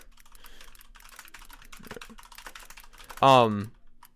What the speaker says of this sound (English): Everyone can hear me typing because of the fucking Opera GX sound.